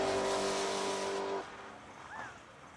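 A drag racing car at a drag strip roars loudly as it launches into a wheel stand, its engine drone holding then dropping away into fainter, more distant noise.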